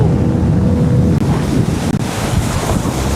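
Broad roaring rush of big whitewater river rapids on a landslide-formed rapid, steady and loud throughout with wind buffeting the microphone from a safety boat.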